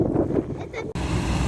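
Snowstorm wind gusts roar against the microphone outdoors in a blizzard, a rough steady rush with a brief dropout near the middle.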